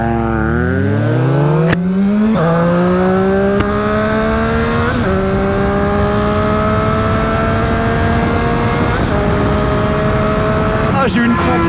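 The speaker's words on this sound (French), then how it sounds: "des petits coups de gaz là" Triumph Street Triple 660 S motorcycle engine revving through repeated rising throttle blips, loud and close, with climbing harmonic tones dropping between pulls.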